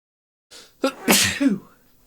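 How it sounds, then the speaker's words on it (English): A single loud sneeze up close, with a sharp intake of breath before an explosive burst, then silence. "I'm gonna sneeze."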